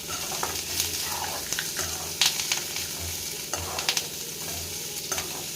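Onions stirred in a frying pan for tamarind chutney give a steady close sizzle, broken by scraping strokes of the spoon that come every second or so.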